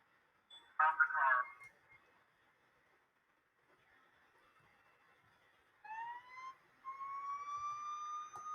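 A short police siren blip in Police Simulator, then a rising electronic siren tone that holds steady, fairly faint against a quiet background.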